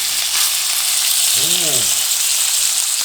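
Saddle of hare sizzles loudly and steadily in a hot frying pan, and a brief voice is heard over the frying.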